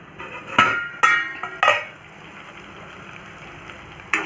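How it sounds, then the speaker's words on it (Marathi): Metal clatter in a cooking pan as chopped tomatoes go in and a lid is set on, with several sharp clinks in quick succession, a quieter stretch of faint sizzling, then one more clank. "ते टाकून घेऊया आणि झाकण ठेवून टोमॅटो छान शिजवून घेऊया"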